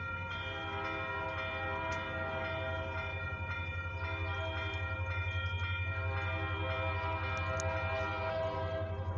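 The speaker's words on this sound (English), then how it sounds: "I can hear the roar of that train" An approaching eastbound mixed freight train rumbles steadily with a deep, droning roar and sustained horn-like tones, growing slightly louder over the clip with no talking.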